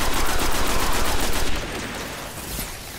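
Rapid automatic gunfire from the video game Destiny, dense repeating bursts loud for the first half, then dropping to a quieter rumble of distant shots.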